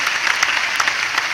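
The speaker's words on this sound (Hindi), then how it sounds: "आइए जोरदार तालियों से हम भी धन्यवाद ज्ञापित करें माननीय मुख्यमंत्री जी का" A crowd applauds the Chief Minister at the launch of the Udyam Kranti scheme, giving a brief, dense and steady burst of clapping.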